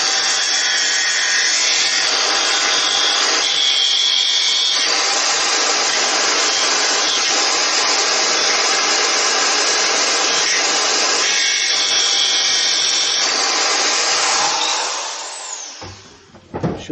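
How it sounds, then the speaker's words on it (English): A croc sander cutting a slot in a plastic project box for a Mk3 Cortina: a continuous, loud, gritty buzz of abrasive grinding for about fourteen seconds, with slight changes in pressure, then winding down to a stop. "Use the croc sander for that."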